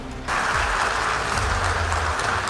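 Audience applause breaks out after a brief moment, a dense, steady wash of clapping from a crowd that holds at an even loudness to the end.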